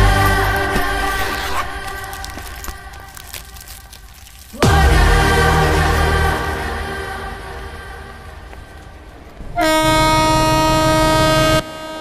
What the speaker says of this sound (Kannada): ಅಲ್ಲಿ ಟ್ರೈನ್ ಓಡ್ತಾ ಇದೆ